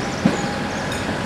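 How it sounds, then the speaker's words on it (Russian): A Tren de la Costa train pulls away from a station in Tigre, near Buenos Aires, with a loud, steady rumbling roar close by and no voices. "Называется Трен де ла Коста пошел."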